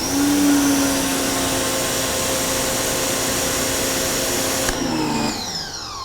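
An AIVOLT PWX-3200s electric power washer runs with a loud, steady motor whine and constant hum, measured at one meter, then spins down near the end.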